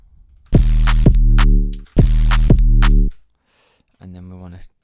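Synthesized 808 drum made from noise and pushed through distortion, two loud buzzing hits with heavy low end and gritty noise, each ringing about a second, then a quieter tonal tail after a pause.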